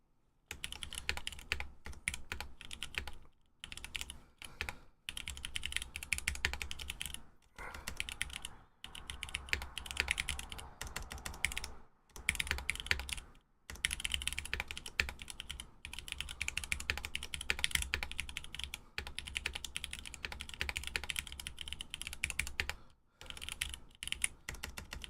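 Typing on a Vanguard65 mechanical keyboard fitted with GMK Cosmos keycaps and a Blue Cheese V2 spacebar, a steady, close run of clacky keystrokes with a few brief pauses and no talking.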